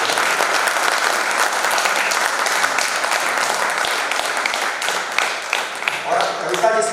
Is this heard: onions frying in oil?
no